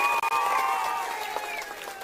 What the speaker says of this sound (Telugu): గట్టిగా చప్పట్లు కొట్టి అందరూ అభినందించండి.